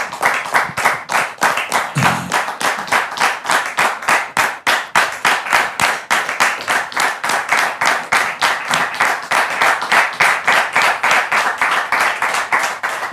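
Studio audience claps and applauds steadily to welcome a woman's husband onto the stage, a dense rhythmic burst of hands that is loud and sustained throughout.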